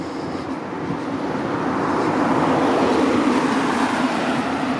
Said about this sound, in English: Oh, and we got a car coming.